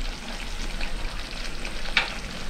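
Pepper vathal kuzhambu simmers in a pan with the oil separated on top, giving a steady, close, even sizzle and bubbling hiss with no talk.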